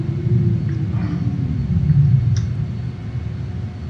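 A JAS-39 Gripen jet engine in Microsoft Flight Simulator throttles back on final approach, a steady loud low rumble and whine that eases slightly in pitch and level toward the end.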